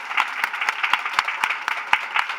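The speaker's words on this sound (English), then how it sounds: "Let's give them all a round of applause." An audience applauds after a panel of speakers, a short burst of steady, moderately close clapping from many hands.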